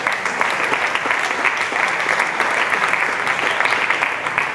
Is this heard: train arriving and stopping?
no